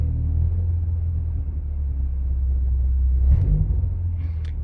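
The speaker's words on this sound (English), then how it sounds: "if I hold it, you can hear the plastic trim shaking" A Ford Focus ST with an aftermarket stage 2 rear motor mount holds a steady low idle-range rumble around 1,100 to 1,200 RPM, loud and close, with the engine note swelling briefly near the end as plastic trim buzzes.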